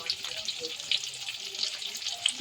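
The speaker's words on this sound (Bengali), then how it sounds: "আলুগুলোকে নুন হলুদ দিয়ে লাল করে ভেজে নেব" Potato pieces fry in hot oil seasoned with salt and turmeric, giving a brief, continuous close hiss flecked with small crackling pops and no talking.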